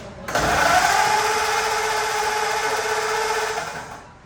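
An old flathead engine in a 1935 Ford starts abruptly and runs at a steady, even drone for several seconds before winding down, close and fairly loud with no talking.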